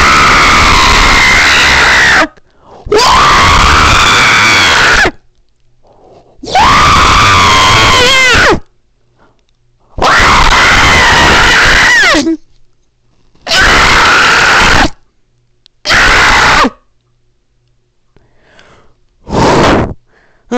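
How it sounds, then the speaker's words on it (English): A person screams loudly in several long, harsh bursts separated by short silences, with a shorter final scream near the end. "how about we just have a couple minutes dedicated to me screaming?"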